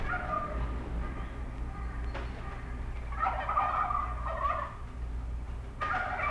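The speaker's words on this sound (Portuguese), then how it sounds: "Será que é o peru? Olha que é o peru mesmo, crianças." A turkey gobbles in bursts of rapid, warbling calls, with a short call early, a longer loud run in the middle and another starting near the end, over a steady low hum.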